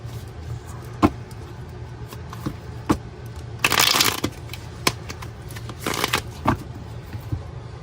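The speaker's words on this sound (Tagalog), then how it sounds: "Balasahin po muna natin" Playing cards are shuffled in two quick riffling bursts, with scattered taps and clicks of cards being handled between them, close up and moderately loud.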